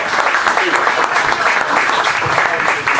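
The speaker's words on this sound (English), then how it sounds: "Let's give him a nice round of applause." An audience at a meet-and-greet applauds the spokesperson Carmelo with a steady, dense burst of clapping that lasts throughout.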